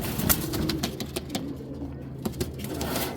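Male racing pigeon let go by hand, its wings clapping in quick repeated bursts close by, with steady background noise throughout.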